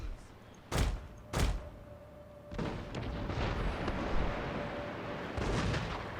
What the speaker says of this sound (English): I'm about to give them another salvo, so they'll be put back on fire again.